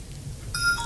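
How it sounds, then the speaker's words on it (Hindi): A phone keypad gives a single short dialing beep, close and clear, after a brief quiet moment as a number is entered. "ला पिताजी को फोन मिला ही देती हूँ आज"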